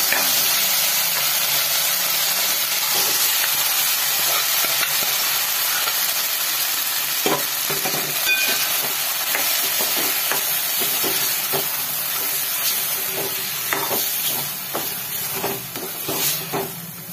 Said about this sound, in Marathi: ह्यातच मी खीर घालते, चांगली तुपावर परतवून घेऊया